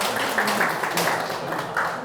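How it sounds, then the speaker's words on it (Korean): Applause from a seminar audience for the members of a small discussion group at a lecture-style academy session: a steady, dense wash of many hands clapping together, moderately loud and filling the whole stretch without pause. "우리 조원들한테 박수 한번 보내주십시오"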